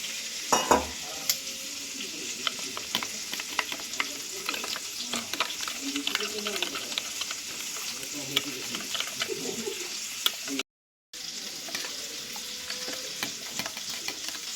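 Spoon stirring Kashmiri chilli powder into a little water in a small bowl, with soft, continuous scraping and swishing, close and fairly quiet against a faint background hiss.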